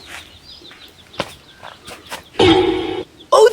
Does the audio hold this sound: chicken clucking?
yes